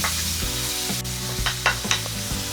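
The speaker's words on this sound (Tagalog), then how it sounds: "At pagkatapos po ay gigisahin ko na po itong bawang." Chopped garlic sautés in about a tablespoon of hot oil in a pan, making a loud, continuous close-up sizzle with a few stirring scrapes and a faint steady hum beneath.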